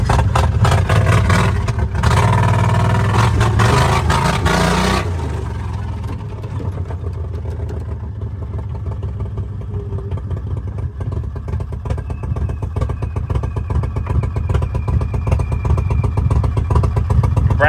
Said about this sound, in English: big block golf cart